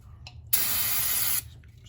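Brake parts cleaner sprays from an aerosol can onto the cylinder head mating surfaces of a 1JZ-GTE engine during a head gasket replacement, one steady, loud, close hiss lasting under a second against quiet shop background.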